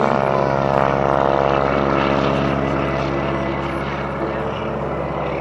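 A propeller airplane drones steadily and loudly overhead at an air show in Bealeton, Virginia, its engine tone holding constant with no voices breaking through.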